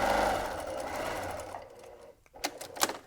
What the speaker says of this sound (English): lengthen out my straight stitch a little bit more to about a 3 millimeter in length